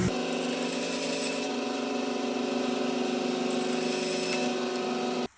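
King Canada bandsaw trimming small walnut accent pieces, a loud steady whine and cutting rasp running for about five seconds before stopping abruptly.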